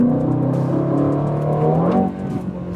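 A 2024 Aston Martin Vantage engine revving, a deep close rumble holding steady then rising in pitch before easing off abruptly near the end.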